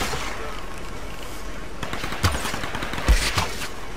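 Gunfire in a video game: a steady rattle of distant shots, then a few louder, sharper bursts near the end, with faint background noise.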